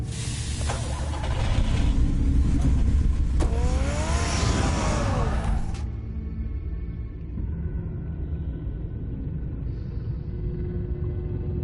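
A car engine in the Batman Telltale Series game rumbles and revs steadily, loud for the first six seconds with a rising whine, then settling to a quieter idle hum for the rest.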